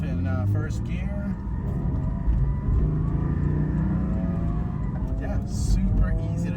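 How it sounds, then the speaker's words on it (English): A Porsche 718 Cayman GT4 pulls away in first gear, its engine rising in pitch as it revs up nearby, heard from inside the car with a voice talking over it. "So taking off in first gear."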